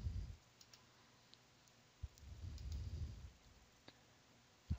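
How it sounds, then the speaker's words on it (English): Faint, sparse mouse clicks picked one at a time on corner points of a room plan in Stratosphere software, a few isolated ticks separated by pauses over low background rumble. "we'll move along and click each of the corner points in the room"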